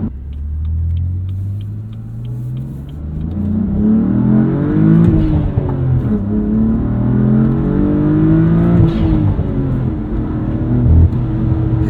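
A 2016 BMW M3 sedan accelerates hard through its gear shifts, a loud, close engine roar with rising revs that climb, briefly dip at each change, then climb again, with no talk.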